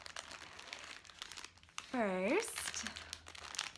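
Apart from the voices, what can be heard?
crinkling packaging of mini yarn skeins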